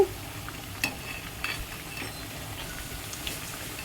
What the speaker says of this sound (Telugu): గారెలు చక్కగా వేయించుకోవాలి, వేగుతాయి.